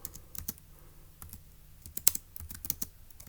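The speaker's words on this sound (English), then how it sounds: "let's go ahead and type that up in our notes in section B" Keys clack on a computer keyboard in short, irregular bursts of crisp taps with gaps between them, faint and close, in a quiet room with no talking.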